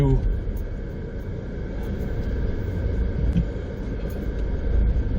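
An 18-year-old Mercedes cruises along German roads, its cabin filled with a steady low road rumble and engine hum, with a voice talking over it now and then.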